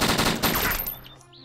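Dense burst of automatic gunfire inside the DayZ survival game, loud and rapid for about a second before fading into a quieter tail with faint sounds.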